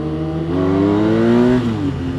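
A BMW F800 motorcycle engine revs up hard in first gear at nearly full throttle, a loud, close, rising drone that climbs in pitch, drops briefly at a shift-like dip, then holds steady.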